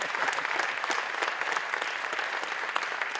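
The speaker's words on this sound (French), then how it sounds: "Je vous remercie d'applaudir Mohamed Majoubi, qui est ici" An audience at a mayor's New Year's greetings ceremony applauds steadily, a dense, even patter of many hands clapping throughout at moderate distance.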